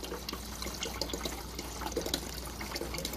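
Water runs from a GE refrigerator dispenser through a newly fitted water filter, a steady close splashing hiss into a container, with no voices.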